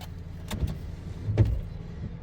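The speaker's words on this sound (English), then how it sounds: "It's on the trailer, truck's running." A truck engine idles with a trailer hitched behind it, carrying a Lebaron Turbo Coupe in the rain: a steady low rumble with two brief soft clunks.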